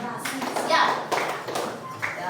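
Schoolchildren in a classroom clap in short rhythmic bursts, with a few separate claps and taps among children's voices and a teacher talking.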